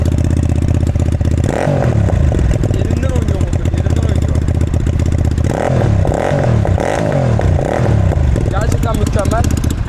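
Musatti Dark Pow 250cc chopper with an aftermarket exhaust revs loudly and close, rising in several throttle blips over a steady idle, with a rough clattering edge.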